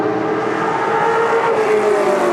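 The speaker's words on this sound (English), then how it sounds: "Look at this side-by-side racing between the American car" A Ferrari and an American race car battle side by side uphill at the Sonoma Speed Festival, their engines roaring loudly and continuously at close range.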